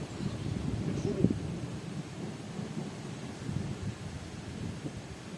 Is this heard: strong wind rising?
yes